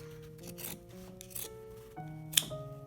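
Scissors chew through the thick side seams of raw jeans in a few rough, rasping cuts, quiet and close, with a faint steady hum underneath and a sharp click near the end.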